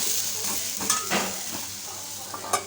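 A dosa made from flattened rice and green gram sizzles softly on a hot pan, with faint scraping and stirring as it is turned. The frying is low and steady, with a few light clinks.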